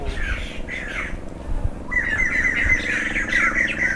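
A bird squawks repeatedly in the grounds of a temple by the sea, harsh and loud, over a steady rumble of wind and surf, with the calls growing busier toward the end.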